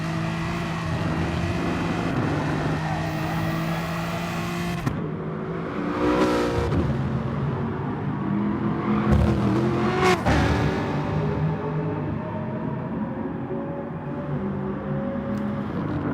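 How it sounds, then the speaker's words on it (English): An Aston Martin supercar races at Interlagos in a racing game, its engine droning steadily before surging in two loud revving bursts as it powers out of corners, with other cars roaring past close by. "as soon as that Aston gets the power down, it's out of there."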